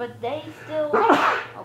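A single sudden sneeze bursts out close by partway through, between snippets of casual conversation about football predictions.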